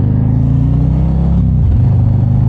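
A 2024 Harley-Davidson Street Glide on a rainy test ride, its engine droning loud and close with low rumbling harmonics, then the pitch dips and climbs again as the throttle changes, with no talk.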